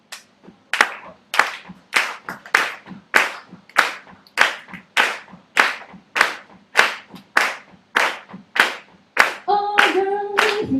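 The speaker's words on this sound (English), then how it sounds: "I would love for you to clap along with me" A live concert audience in Hong Kong claps along in time to a song, crisp evenly spaced beats ringing out in a room, with a few notes of music entering at the end.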